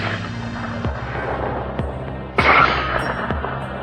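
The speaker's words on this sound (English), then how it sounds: "One squeeze of the trigger, the shot cuts through the night and slams into its side." Sharp gunshot reports echo across open ground during a night wild boar hunt, several evenly spaced cracks with one louder blast in the middle, all heard without speech.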